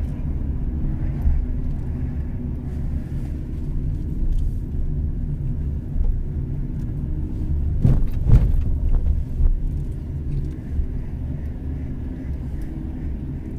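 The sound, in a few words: car driving straight during driving lesson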